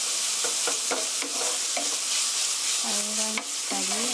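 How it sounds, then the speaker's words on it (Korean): Ground beef for a tomato rigatoni sauce stir-fries in a pan with a steady, close sizzle and repeated scrapes and stirring clatter, a couple of longer tonal scraping strokes near the end. "고기에 색깔이 빨간 색깔이 다 없어질 때까지만 볶아주세요."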